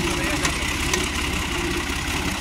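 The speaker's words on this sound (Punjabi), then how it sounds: "ਇੱਕ ਟਰੈਕਟਰ ਆ ਰਿਹਾ ਜੀ" A tractor engine runs close by with a steady, unbroken rumbling drone that holds at an even level throughout, with no breaks or revving.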